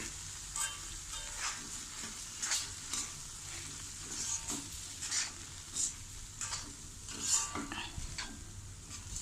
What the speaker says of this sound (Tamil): இனி அரைச்சி வச்சுருக்க அரைப்பை போட்டு நல்லா கிளறி கொடுக்கணும்.